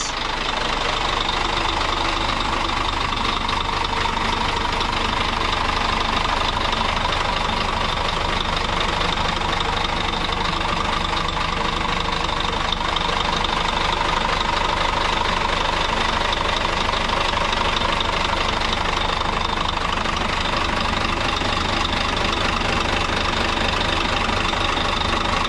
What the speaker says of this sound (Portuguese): para observar aqui o motor em funcionamento